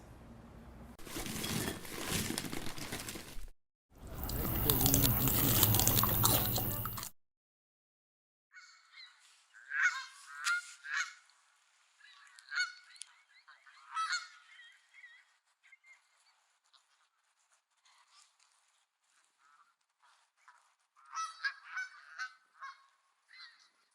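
Animated geese honk in scattered bursts, some calls overlapping, after a stretch of loud broadband noise at the start.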